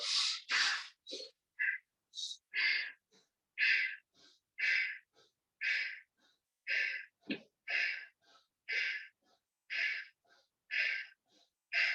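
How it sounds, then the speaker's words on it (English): Steady rhythmic breathing during a yoga and meditation exercise: close, airy inhales and exhales repeat in short regular bursts about every half second, quiet and alone without talk. "Breathing in and breathing out is very important."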